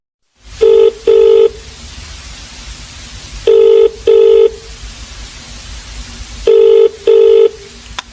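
A telephone rings in three pairs of short, loud electronic double-rings spaced about three seconds apart, with faint line hiss between them and no talk.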